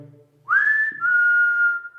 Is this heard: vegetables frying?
no